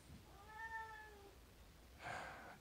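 A house cat meows in a drawn-out, rising-and-falling call near the start, then gives a second shorter, brighter meow about two seconds later, close by against a quiet indoor background.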